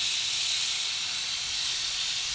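Grill-steamed salmon gives off a continuous, loud, bright hiss of steam that stays even throughout with no pauses.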